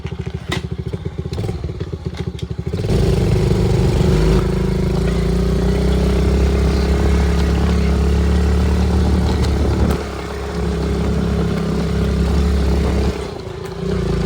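A Kawasaki KLX110 dirt bike revs up from idle and rides off, its engine droning loudly and rising and falling as it moves, with occasional clattering.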